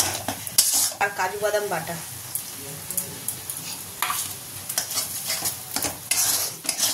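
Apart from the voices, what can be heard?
ginger, garlic, onion and chili paste frying in pan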